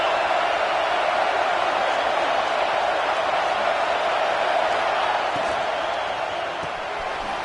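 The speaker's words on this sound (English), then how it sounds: "This crowd trying to make life miserable for this offense." Steady roar of a stadium crowd in a Madden football video game on PS5, a dense, constant wash of noise with no distinct cheers or claps standing out.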